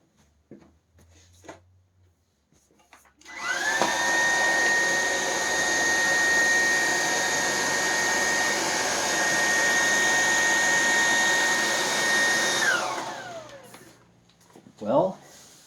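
A Dreametech T10 cordless vacuum cleaner sucks up a pile of sand from a carpet, its motor whining loudly and steadily for about ten seconds with a high tone, then spinning down as it switches off.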